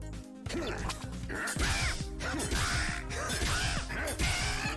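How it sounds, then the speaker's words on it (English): Loud bird enemy in the video game Dicey Dungeons, harsh cawing calls over clattering smash and whack effects and game music, dense and continuous throughout. "Hopefully kill this loud bird."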